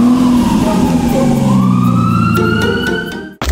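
A loud wailing siren sweeps up and down in pitch, close by, then cuts off abruptly.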